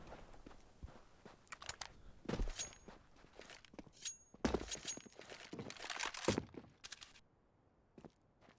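Footsteps in Counter-Strike on the Dust 2 map: a run of crunchy, uneven steps at close range, with several louder scuffing bursts among quieter taps and no voice over them.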